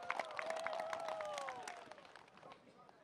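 A crowd applauds loudly with cheering at a Tanzanian political rally, the dense clapping steady and then thinning slightly toward the end.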